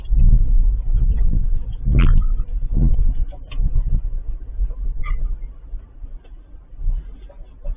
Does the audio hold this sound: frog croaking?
no